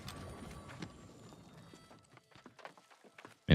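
Hoof clip-clop from a basic horse mount in a spooky Halloween-themed video game world, a faint, scattered patter of steps fading in and out, with a sharp louder hit at the very end.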